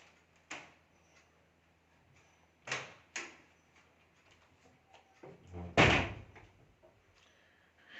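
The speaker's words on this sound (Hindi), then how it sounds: "दरवाजा बंद करी" Knocking and thudding of a door at home, several sharp separate bangs spread out irregularly with a heavier, louder slam near the end, moderately distant and without talk.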